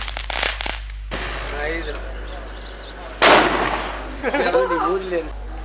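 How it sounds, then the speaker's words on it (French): Sharp firecracker bangs and crackling bursts ring out during Diwali celebrations amid voices talking, with a loud explosion in the middle and busy outdoor noise around it. "que serait Diwali sans pétard?"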